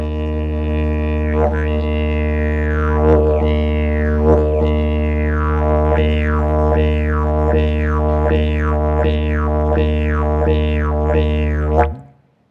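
A red kangaroo hopping, imitated on a didgeridoo: a steady low drone with a rhythmic series of repeated bouncing whoops, speeding into regular pulses before stopping abruptly, loud and close with no talk.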